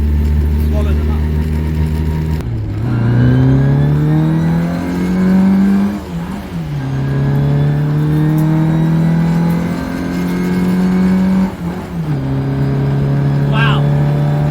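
Engine of a 1964 Morris Cooper S revs up hard through several gears, each shift dropping the pitch before it climbs again, loud and close from inside the car, with a voice over it.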